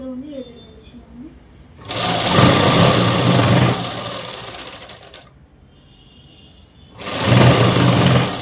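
A sewing machine stitches folded fabric for a French-cut dress in two loud, close runs of rapid whirring, the first lasting a few seconds and the second starting near the end, with quieter pauses between them and talking during the pauses.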